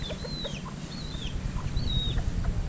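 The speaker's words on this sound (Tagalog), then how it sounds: "Napakagandang klase ng mga manok din eh." Chickens cluck and make short squawking calls, with a steady low rumble of background noise underneath.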